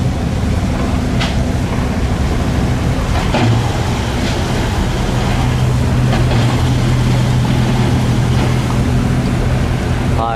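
A small Binh Dinh wooden fishing boat's engine drones loud and continuous near Vung Tau, a steady low throbbing rumble with splashing water mixed in throughout.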